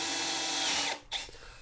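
Power drill boring dowel holes through a Dowel Max doweling jig for cabinet casework, a loud steady whine for almost a second that cuts off sharply, followed by a brief quieter bump of tool handling.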